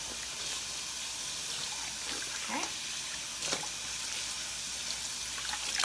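Running water splashes steadily while banana leaves are rinsed clean for making Filipino suman, with a few squeaky rubbing sounds and a brief spoken word over the flow.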